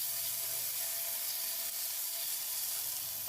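Thalipeeth, a flatbread, frying in oil in a pan over medium heat, giving a steady, even sizzle and hiss that continues without pause, with no talking over it.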